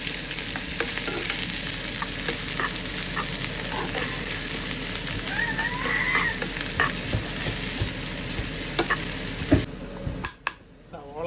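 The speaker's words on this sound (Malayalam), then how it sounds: "കടുക് പൊട്ടിച്ച് ചേർക്കാനുണ്ട്." Mustard seeds spluttering and popping in hot oil for a Kerala duck curry, a dense continuous crackle with sharp pops throughout, cutting off near the end to a few quieter clicks.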